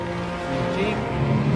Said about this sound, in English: Jeep.